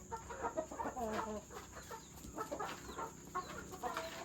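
Rhode Island Red hens cluck softly nearby in a farmyard, with a string of short, irregular clucks that are fairly faint, over a quiet background hum.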